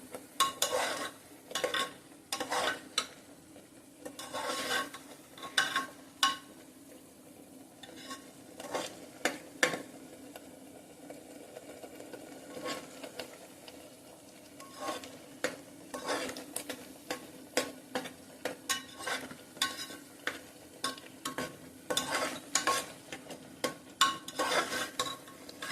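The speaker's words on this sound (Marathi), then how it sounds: "हे सुद्धा छान परतून घ्यायचं, त्याचा कच्चेपणा जाईपर्यंत, म्हणजे साधारण 2 ते 3 मिनिट हे आपण परतणार आहोत." Vegetables for pav bhaji are stirred and sautéed in a pressure cooker, with repeated scraping strokes of a spoon against the metal pot over a faint sizzle, irregular and close, with no talking.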